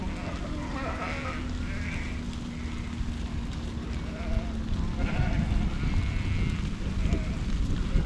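A large flock of ewes being herded outdoors bleats repeatedly in overlapping calls, some near and some farther off, over steady wind rumble and low background noise, with someone talking at times.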